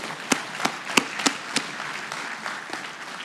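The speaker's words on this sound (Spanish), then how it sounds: "Me encanta ese aplauso bíblico" A church congregation gives a few sharp, spaced claps in a slow rhythm, fairly faint in a quiet hall, with softer scattered clapping between the louder strikes.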